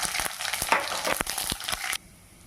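Mustard and cumin seeds sizzle in hot oil in a kadai for tempering, giving a close, crackling hiss with sharp popping bursts. It cuts off abruptly after about two seconds.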